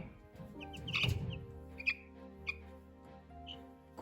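Young Araucana chicks peeping close by, a few short high chirps at scattered moments over a low background hum, no talk.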